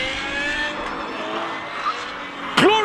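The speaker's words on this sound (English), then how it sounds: "Glorious sound of a BMW V10 launching off the start line while we got visuals" BMW V10 race car at a hill-climb speed event, steady loud engine roar through the first part, then a sharp rising high-pitched rev burst near the end as it launches off the start line.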